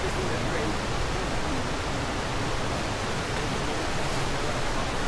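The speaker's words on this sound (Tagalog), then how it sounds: "Golden Waterfall." Steady, loud roar of the Golden Waterfall near Shifen, Taiwan, a dense broadband rush of falling water that fills the whole clip without a break.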